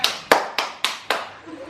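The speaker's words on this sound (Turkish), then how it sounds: "Alkışlıyorum." Hands clap five times at a slow, even pace, each clap sharp and close, followed by a short quiet tail.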